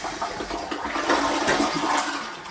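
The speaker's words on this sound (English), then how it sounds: "I'm gonna flush it again." A newly installed household toilet flushes, a steady rushing gush of water running for a couple of seconds, close and loud with no voices.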